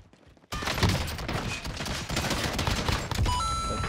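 Dense video-game gunfire erupts after a brief quiet start, a rapid loud fusillade of shots rattling on continuously with layered bursts and small electronic beeps near the end.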